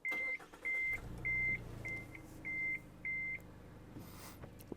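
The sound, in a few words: 2024 Mazda CX-3 warning beeps and bongs at startup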